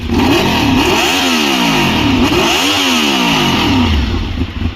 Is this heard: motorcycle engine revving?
yes